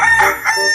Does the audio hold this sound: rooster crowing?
yes